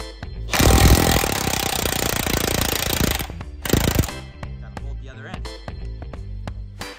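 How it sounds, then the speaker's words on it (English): An impact wrench hammers at the U-bolt nuts on a 2006 Super Duty truck axle, a loud rattling burst of about two and a half seconds, then a shorter burst, followed by quieter clanks and shop noise. "let's just see if this impact will take these nuts off"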